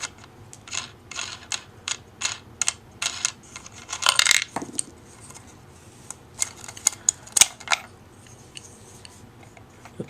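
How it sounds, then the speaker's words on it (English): An M16 camera mount is unscrewed by hand, giving a run of small sharp metallic clicks and ticks in an irregular rhythm, close and fairly crisp, with a brief scraping rattle partway through. "You actually have to unscrew this part."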